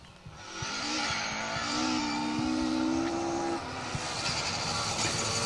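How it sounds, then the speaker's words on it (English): A Ford Escort MK2 rally car drives along a stage at the Nicky Grist Stages Rally, its engine note rising and holding steady at high revs, then dropping as it shifts, with broadband road and gravel noise throughout. "Nicky Crone, Ifan, Devine, dancing their Escort along the stage"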